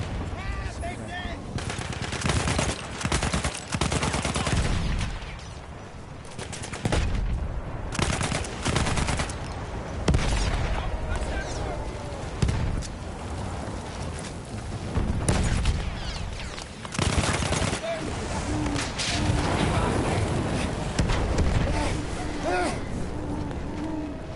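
Dense gunfire from many weapons in Battlefield 1, with sustained machine-gun bursts, scattered rifle shots and occasional heavy booms overlapping continuously and loud throughout, with a voice speaking intermittently over the fighting.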